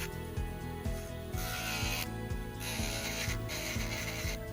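An electric nail drill fitted with a sanding band bit runs at speed setting 6, a steady high whine with a rapid repeating rhythmic ticking as the bit works over nails.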